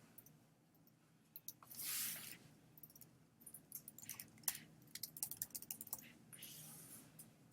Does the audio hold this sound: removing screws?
no